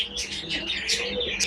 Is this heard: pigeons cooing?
yes